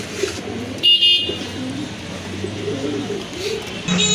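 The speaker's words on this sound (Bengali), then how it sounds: "আর জোড়া কবুতর এটা কিন্তু ভাইয়ার হোম ব্রিড কবুতর" Home-bred pigeons kept for sale at a market stall give soft repeated coos close by, with a brief car horn and faint background voices around them.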